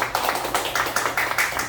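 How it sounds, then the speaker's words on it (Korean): An audience at a community lecture gathering claps together in a brisk, even rhythm, a short burst of about a dozen regular beats at moderate loudness. "우리 이연범 아우 박수 한번 쳐주십시오"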